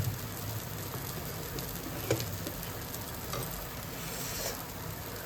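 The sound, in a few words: homemade dosa frying in a pan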